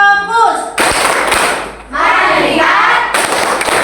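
A classroom of pupils performing a rhythmic focus-clap routine during an ice-breaking activity, with sharp group claps in bursts mixed with children's chanting voices and a teacher talking.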